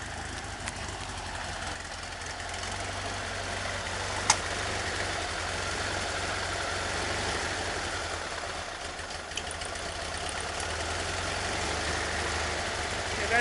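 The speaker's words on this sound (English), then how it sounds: "let me show you real quick that it is idling on both sides" A 1973 Volkswagen Super Beetle 1745cc engine with Dellorto FRD 34 carburettors idles steadily up close in an even mechanical rumble, broken only by a couple of brief clicks.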